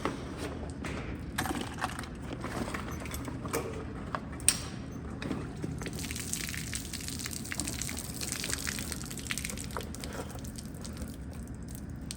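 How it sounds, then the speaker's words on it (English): Water draining out of a hung-up diving buoyancy pack after a dive, a faint trickling gush with small creaks and clicks from handling the gear, quiet and close. "And then drain the water out."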